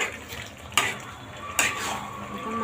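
Goat meat being stirred in a pot while cooking kacchi, two sharp metallic scrapes of a utensil against the pot over a soft background of sizzling and simmering.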